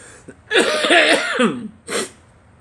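A person coughs hard in a long, rough, raspy burst, then gives one more short cough after a brief pause.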